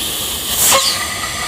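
A homemade air-pumped bike horn gives a brief, loud, hissing airy blast with a thin whistling tone that rises and fades within about a second, over steady background hiss.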